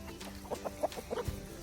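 Backyard chickens, including new flock members still sorting out their pecking order, give a series of short soft clucks at close range over a quiet background.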